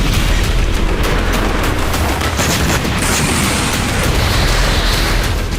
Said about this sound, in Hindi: यूक्रेन सेना ने रूसी सेना के ठिकाने पर बम दागकर उसे तबाह कर दिया।